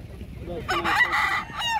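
A brief burst of Aseel chicken calls at Kashipur market, a sharp clucking or crowing cry rising over a low background murmur.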